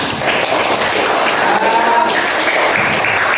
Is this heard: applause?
yes